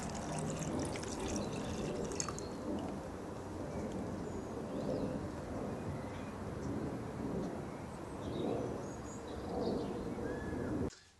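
Filtered canal water being poured, a steady broadband splashing flow that runs continuously and fairly loud for about eleven seconds before cutting off, with no talk.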